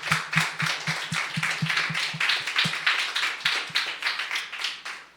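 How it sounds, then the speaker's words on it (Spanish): A church congregation claps in a fast, rhythmic beat during a worship celebration, the close, punchy claps falling in regular pulses that loosen near the end. "este aplauso es para ti"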